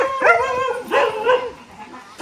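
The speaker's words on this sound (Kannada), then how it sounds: "ಇಲ್ಲಿ 2 ನಾಯಿ ನೋಡಿ" Two dogs at a family home in a village give a short burst of yips and whiny, howl-like cries, close and fairly loud, in two quick rounds with no talk.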